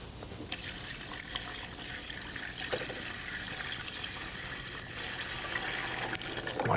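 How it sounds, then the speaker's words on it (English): Milk pours into butter and sugar in a continuous, soft liquid stream that stays steady throughout, with no talk. "And we're going to add our milk."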